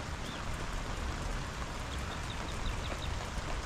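Steady rain pours down with a dense, continuous hiss and patter that stays even throughout. There are a few faint high chirps in the background.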